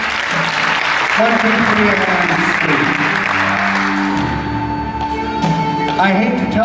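Steady applause from a crowd at a high school post-prom event, with voices talking and a tonal sound over the clapping.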